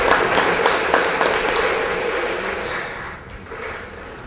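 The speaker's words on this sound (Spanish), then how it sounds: "Fuerte las palmas" Audience at a prize draw event applauds a winner, dense steady clapping that stays loud and gradually thins out toward the end.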